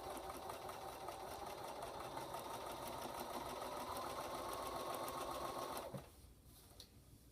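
Sewing machine stitching a fabric strip along the edge of a diamond patch, a steady close whirring drone for about six seconds, then stopping with a soft thunk and faint handling noise afterward; no talking.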